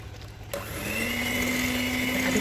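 An electric mixer switches on at its lowest speed to beat waffle batter made with sweetened condensed milk and melted margarine, a steady motor whir that starts after a short quiet moment and holds at an even pitch.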